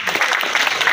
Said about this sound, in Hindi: बहुत जोरदार तालियां सब लोग दें।